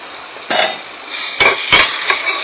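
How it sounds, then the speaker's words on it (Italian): Boiled olives drained from a kitchen pot: a few close, sharp bursts of metal clanking and splashing water over a steady background hiss. "Adesso le scoliamo"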